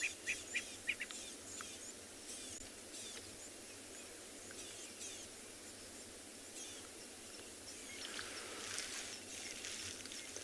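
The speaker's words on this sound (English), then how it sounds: "Franklins are shouting on the right-hand side" Francolins calling at sunset on an African safari, faint and distant chirping calls over a quiet outdoor background with soft insect sound, no voices.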